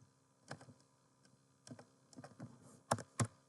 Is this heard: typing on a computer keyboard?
yes